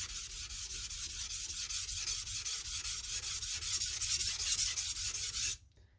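A knife blade is worked back and forth on a coarse whetstone, making a loud, close, gritty rasping in steady rhythmic strokes that stops abruptly at the end.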